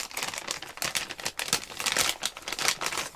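A plastic bag that once held a set of small bottles is handled up close, giving dense, irregular bursts of loud crinkling throughout.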